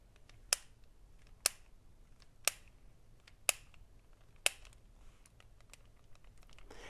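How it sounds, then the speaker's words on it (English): A 1975 Bionic Man toy's arm is raised by hand, its ratchet giving five sharp, evenly spaced clicks about a second apart, close and crisp over a quiet background. "And if I raise his arm manually, you can feel and hear the ratcheting action."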